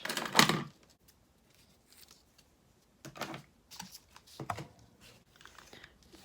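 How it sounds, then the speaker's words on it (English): Scissors snip a piece of chevron weave ribbon in a crafting session: one sharp, close cut at the start, followed by a few faint rustles and small clicks of handling. "So we'll just snip off a bit of that."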